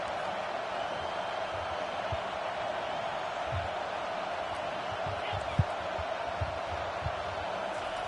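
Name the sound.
football stadium crowd noise rising on third down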